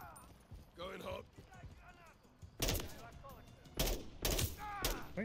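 Bursts of gunfire from Call of Duty: Modern Warfare 3 crack out in several loud, sharp volleys over the second half, following stretches of radio-style speech from soldiers.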